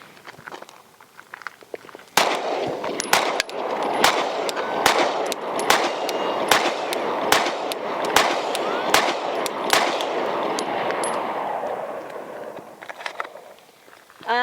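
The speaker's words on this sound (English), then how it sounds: "She's gonna get her first rounds through the new P365 X Macro." Sig Sauer P365 X Macro pistol firing a rapid string of over a dozen sharp gunshots at a steady pace, loud and close, with outdoor range echo trailing each shot.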